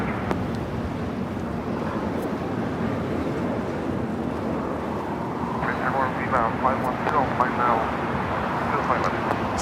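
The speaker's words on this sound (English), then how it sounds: "777-300ER coming up from Hong Kong." A Cathay Pacific Boeing 777-300ER arriving at Los Angeles International Airport from Hong Kong makes a steady, distant jet roar with wind buffeting the microphone, and the sound swells slightly toward the end.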